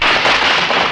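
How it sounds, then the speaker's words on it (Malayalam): Firecrackers burst in a dense, unbroken crackle, loud and close throughout a short, noisy stretch. "പോയാ പടക്കത്തിന് തീ കൊടുക്കാൻ മതി."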